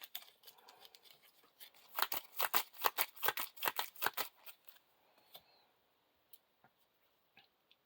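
Cards from the Lord of the Rings living card game shuffled into a deck by hand, a quick burst of crisp riffling clicks at close range, then a few scattered taps as the deck settles, without talk.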